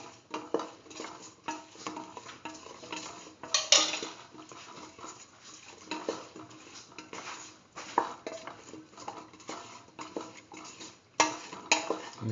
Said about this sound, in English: Mix the eggplant and the aubergine pieces thoroughly with the rest of the mixture.